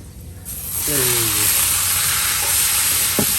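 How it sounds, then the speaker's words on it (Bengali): Ash gourd in a pan of hot oil, topped with fried onion, garlic and dry red chillies, crackles with a steady broad sizzle that swells after the first half-second, broken by a few brief clinks. "একদম তেলে ভাজা পেঁয়াজ রসুন এর উপর দিয়ে দেওয়া হলো"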